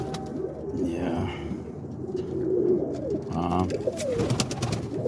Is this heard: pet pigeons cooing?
yes